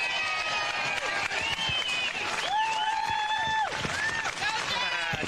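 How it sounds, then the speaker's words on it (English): Audience applause greeting a guest speaker at an Entrepreneurs Against Tyranny event, a steady wash of clapping and some cheering that fills the clip, with voices and tonal sounds mixed in above it. "please give a round of applause for Mr."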